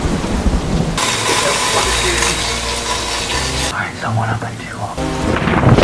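A thunderstorm with heavy rain in a film roars as a dense, loud wash of downpour and rumbling thunder, steady for most of the span with a brief shift in texture partway through and no clear speech.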